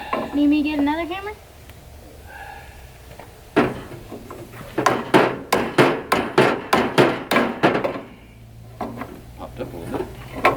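Steady hammer blows on a 1961 John Deere 1010 engine being moved into a 1964 John Deere 2010 dozer, about a dozen loud, evenly spaced metallic strikes in a run, with voices talking before it.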